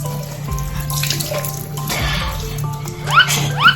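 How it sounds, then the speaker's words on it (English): Water runs steadily from a bathroom tap into a sink during a night-time face wash, close and fairly loud, with splashes and drips over the flow. "We just wash our face."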